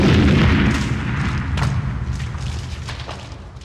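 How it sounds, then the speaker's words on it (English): A 1995 B-movie explosion destroying the Metalbeast creature: a loud, heavy boom at the start rolling into a decaying rumble with scattered crackling debris sounds. "Then they blow the Metalbeast up."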